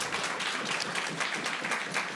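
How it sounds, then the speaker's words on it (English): An audience at a community session claps and applauds steadily for about two seconds, a dense sustained patter with no talk over it. "Clap it up for Vanshika and her work."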